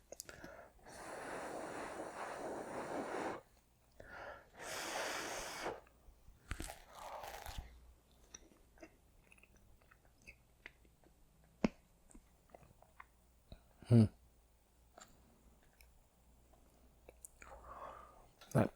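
Crunchy chewing and biting of a rehydrated 4Patriots 72-hour survival food kit meal with still-hard peas, heard as close, quiet mouth crunches in bursts early on, then sparse clicks and a few sharper bites over near silence.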